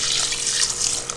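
Water running and splashing as soaked sela basmati rice is rinsed in a bowl, a steady close hiss of flowing tap water with no talk.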